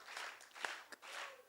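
Audience clapping at a Hindi kavi sammelan poetry gathering, a short burst of scattered applause from a crowd, with a couple of sharper individual claps standing out.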